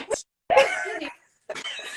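A person sneezes close by with short, explosive bursts separated by brief pauses, alone without talk.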